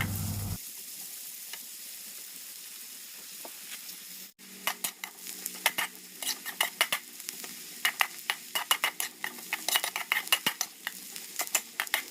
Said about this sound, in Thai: เจียวกระเทียมเจียวหอม